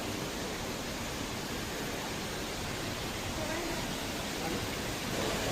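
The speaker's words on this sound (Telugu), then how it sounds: "వెనకాల ఎంత పెద్ద వాటర్ ఫాల్స్ ఉందో అదో" Large indoor waterfall in a Dubai airport transit area, water spraying down from above; a steady, broad rushing roar fills the whole clip at an even level, with no breaks.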